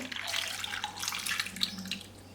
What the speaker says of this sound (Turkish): Şöyle biraz daha su ekliyorum.